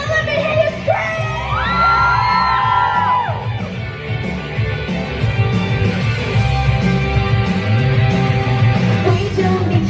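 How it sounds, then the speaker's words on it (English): A Manchester concert crowd on the Make Some Noise tour screams and whoops loudly, a dense roar of many voices with high sung or shouted pitches rising over the din. "Manchester, let me hear you scream!"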